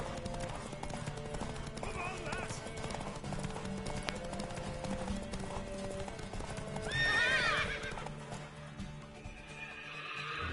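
Rhythmic clip-clop of horse hooves in The Witcher 3: Wild Hunt, with a sharp whinny near the middle, set over a steady background hum.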